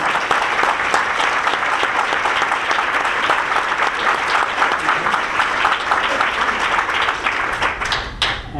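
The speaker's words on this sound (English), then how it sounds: "I would like us all to give a big round of applause to our" A loud, full round of applause from an audience at a healthcare panel event in Philadelphia, sustained and dense for several seconds before tapering slightly at the end.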